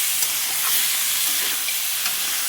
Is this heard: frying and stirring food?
yes